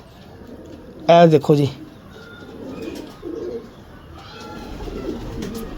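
Sialkoti pigeons coo near at hand, with one loud throaty burst early on and softer cooing afterward, while someone talks over them.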